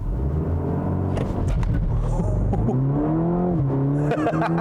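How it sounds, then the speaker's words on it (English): A 2020 Cadillac CT4-V, a rear-drive sport sedan, revs up under launch control and then accelerates hard. A loud engine note climbs steadily in pitch through the gears close to the microphone. "All you have to do is floor the brake and the accelerator, let the revs build up, and then let go of the brake."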